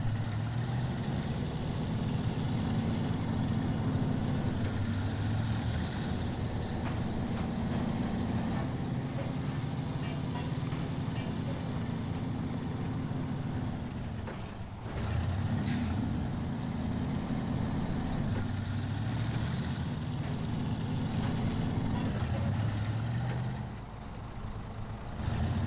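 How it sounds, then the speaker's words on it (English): The Fleet Star truck in SnowRunner drones steadily with a deep, loud engine rumble that holds even throughout, with occasional shifts in load and a brief dip before it settles back into the low growl. "Fleet Star, pretty good truck."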